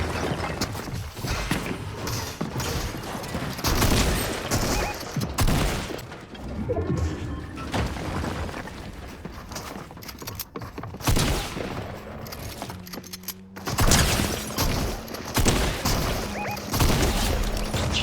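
Gunfire in Fortnite: bursts of loud, crackling shots and booming impacts come in clusters throughout, some rapid and fusillade-like, with brief quieter gaps and scattered footsteps between them.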